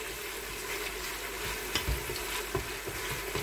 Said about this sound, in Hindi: इसको हम अच्छी तरह भूनेंगे दो चार मिनट